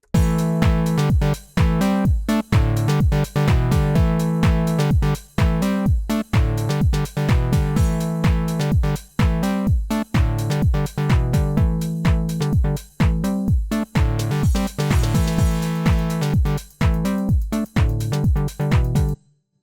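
A melodic house bass synth preset plays a busy, loud sequence of short gritty notes in a driving steady rhythm with brief gaps between phrases, alone.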